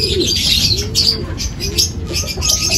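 Racing pigeons arriving and landing at a pigeon derby fill the air with close, repeated cooing and chirps, plus a few soft wing flutters.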